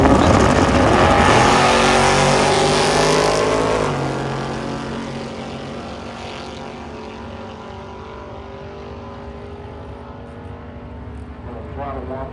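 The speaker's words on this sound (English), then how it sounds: "Throttle whopping going on down there" Drag race launch at Hot Rod Drag Week 2025 involving a Camaro and a yellow Chevy II hot rod: a loud, broadband engine roar that swells over the first four seconds then eases to a sustained, more distant drone, with a commentator talking over it.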